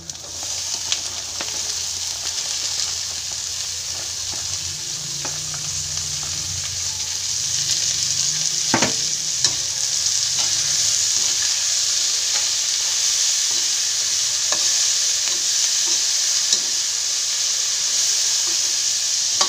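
String beans, broccoli and pork sauté in a hot pan with a steady close sizzle and hiss, stirred with scraping and occasional clacks, no one talking.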